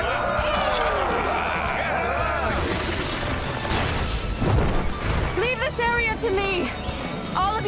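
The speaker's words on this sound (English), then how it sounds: "Explosion!" A magic explosion bursts during an anime battle between mages and a horde of monsters: a rumbling, crashing roar that swells to a booming peak midway, with excited voices shouting over and after it.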